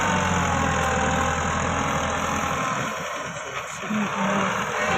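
A Massey Ferguson 385 tractor engine runs while cultivating and loading soil onto a trolley, a steady mid-pitched diesel drone with a knocking rumble, dipping briefly midway, under faint background talk.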